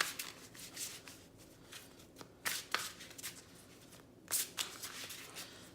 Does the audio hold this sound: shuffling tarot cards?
yes